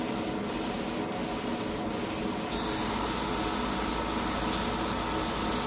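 An airbrush sprays leftover paint from its cup onto a 1/35 scale German Leopard 2 'Leguan' AVLB model, a continuous loud hiss with a few brief pauses and a shift in tone partway through.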